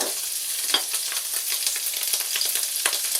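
Meat for tantuni sizzling in a hot pan with oil and a little water, a steady dense frying hiss with scattered crackles and pops, close and continuous, no voices.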